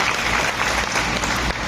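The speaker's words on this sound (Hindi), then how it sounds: "जिनकी तालियां बज रही है" A seminar audience in a hall applauds. The dense, continuous clapping is loud and fills the short stretch without a break.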